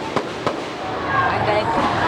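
Fireworks burst at an outdoor night concert in Lopez, Quezon, two sharp booms landing early over a steady crowd roar with voices around.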